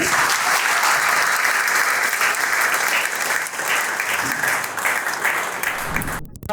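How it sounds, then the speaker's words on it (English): A large audience claps loudly and continuously for a student achiever at a felicitation event for a defence academy, dense sustained applause that fades slightly before a sharp cutoff at the end. "clapping for the Shubh Kaushik for the achievement."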